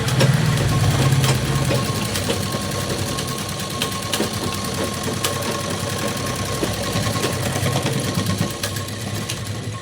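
A sewing machine runs continuously while stitching a blouse, a loud, even mechanical whir with a faint rhythmic knock throughout and no pauses.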